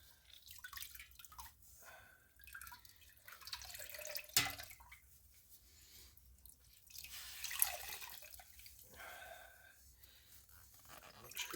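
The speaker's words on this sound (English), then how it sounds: "It's wrung out really well, because then I'm going to hang it up to dry." Water drips from a wrung-out shemagh cloth, a quiet scatter of soft drops and trickles with a couple of sharper splashes against a faint background hiss.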